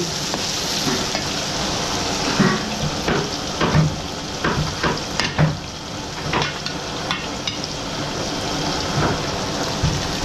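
Garlic and onion sautéing in a hot pan, a loud continuous sizzle broken by repeated clanks and scrapes of a stirring utensil.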